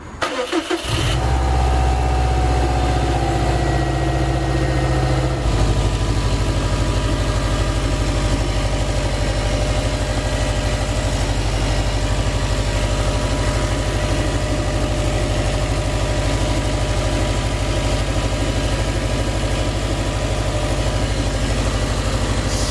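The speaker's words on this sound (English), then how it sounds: "Seems like the power steering pump is a little noisy." A car engine starts after a repair and settles into a steady idle, with a noisy power steering pump adding a whine. A brief cranking burst is followed by a continuous, loud, even drone that lasts the whole time with no talking.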